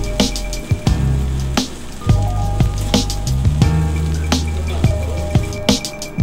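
Chicken pieces simmering in sauce in a pan, a dense crackling sizzle dotted with sharp pops and bubbling bursts, with a low droning hum underneath.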